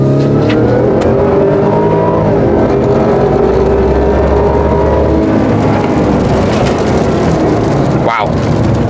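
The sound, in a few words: Ford Raptor R truck accelerating during a test-drive pull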